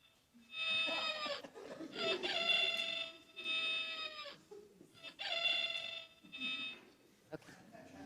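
A toy chicken clucks and crows in loud, harmonic bursts, several squawking calls in a row with brief pauses between them, played during a talk in a church setting.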